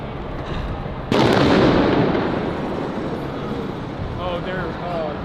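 Loud sharp blast of munitions fired from above at protesters by police, followed by a sustained roaring wash that slowly fades, with crowd noise and faint whistling beneath.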